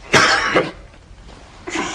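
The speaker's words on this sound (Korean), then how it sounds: "누가 기침 소리를 내었는가 말이야!" Two sharp coughs close by, the first strong and the second shorter, followed by a quieter pause and then another burst.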